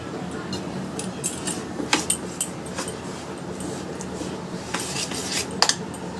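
A spoon scrapes and clinks against a bowl while semolina and yogurt dhokla batter is mixed with water, a steady run of light metallic taps and scrapes, close and uneven in rhythm.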